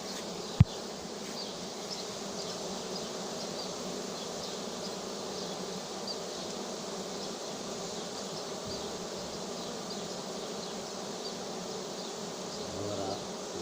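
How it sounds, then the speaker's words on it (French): A swarm of honeybees gathered at a swarm recovery in Soignolles-en-Brie buzzes all around, a dense continuous drone close to the microphone with one sharp knock early on. "c'est la première fois que je suis entouré d'abeilles autour de moi"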